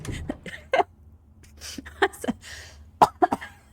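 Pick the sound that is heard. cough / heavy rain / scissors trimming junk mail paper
cough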